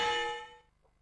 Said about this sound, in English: 4, 3, 2, and 1. Bell. Round 2.